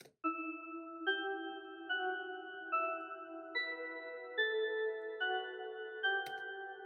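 A synthesized bell preset, Ambient Cathedral Drop, plays a slow sequence of shimmering, sustained chord tones, a new one chiming roughly every second, soft and reverberant with no other sounds.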